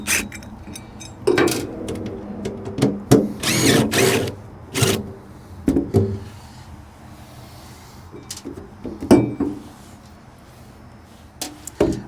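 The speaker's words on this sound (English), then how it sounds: "drill out these holes I need" A power drill drives a self-tapping screw through metal on a dump trailer in several loud whirring bursts of one to two seconds each, separated by short pauses and clicks, close and without speech.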